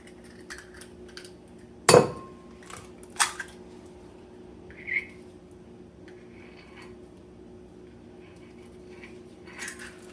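Eggs are cracked into a bowl for egg wash: a sharp clink of shell on the bowl, then a few lighter taps and knocks over a quiet kitchen hum.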